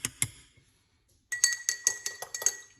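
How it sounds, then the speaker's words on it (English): A spoon clinks against a glass while mixing garlic and honey: one or two taps, a short pause, then a quick run of bright, close, sharp clinks. "mix it really well."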